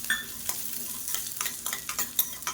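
Fenugreek seeds and small shallots roasting in a pan, with a soft, faint crackle and a series of light scraping stirs at an irregular rhythm, close by and with no talk.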